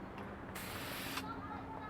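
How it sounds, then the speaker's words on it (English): A spray gun sprays light gray primer onto a Jeep JK flexible fender in one steady hiss lasting under a second, close by, with a low background hum around it. "if you go and you spray and then stop"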